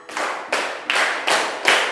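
A classroom of students claps in unison in a practiced pattern: five sharp, evenly spaced group claps, each with a short ringing tail, with no talking.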